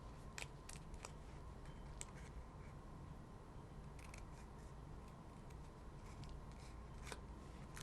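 Scissors snip through a paper-pieced summer card in soft, close, irregular cuts, with small crisp clicks against a faint steady background hiss.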